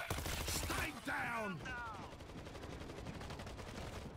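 Assault rifle fire in the zombie shooter World War Z rattles steadily through the whole stretch as fast, even automatic shots. Someone talks briefly over it at the start.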